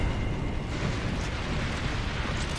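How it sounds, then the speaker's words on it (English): In the Gears of War: Judgment video game, mortar shells pound the area, producing a dense, continuous roar of low rumbling blasts and debris that fills the whole stretch without a break. "Mortars!"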